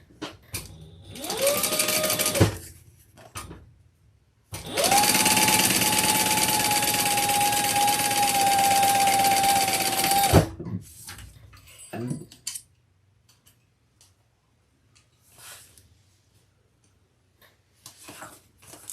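A sewing machine stitches a handbag. A short whirring burst comes first, then a longer steady run of about six seconds, followed by scattered quiet handling sounds and silence.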